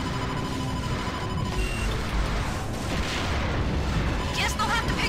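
Torpedo strike and explosion in the space combat game Wing Commander Prophecy: a sustained rumbling blast with crackling debris over steady loud engine and combat noise, fairly close and dense throughout.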